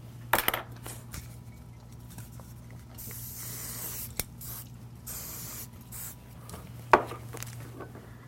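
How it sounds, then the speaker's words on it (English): Volume X spray can being sprayed during a demo, heard as broad hissing bursts with short taps and clicks over a steady low hum, fairly faint and close. "That was the Volume X spray."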